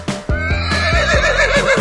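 A horse gives one loud, close whinny, a shaky rising-and-falling neigh lasting under two seconds, heard alone.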